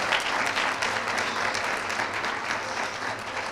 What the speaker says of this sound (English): So, yeah, you can clap if you want